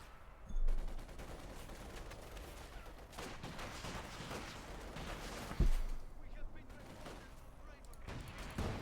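Machine gun fire in the Company of Heroes 2 strategy game, bursts of rattling gunfire and distant blasts rolling continuously beneath a commentator's talk.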